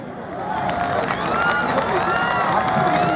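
A huge outdoor crowd at a Bihar Diwas celebration at Gandhi Maidan in Patna applauds and cheers in a steady roar that swells and stays loud throughout.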